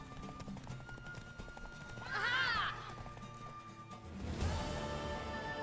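In The Witcher 3, a horse races along at a gallop, with steady hoofbeats and a brief whinny over a busy game soundscape, heard at moderate loudness.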